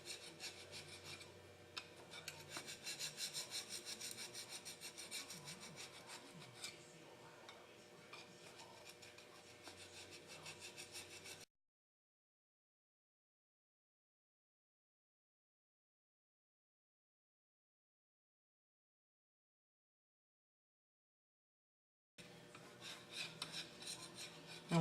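Steady hand scraping of an old gasket off a GM 4.3L V6 lower intake manifold, a harsh rasping rub lasting several seconds, a silent gap, then a shorter burst of the same close scraping.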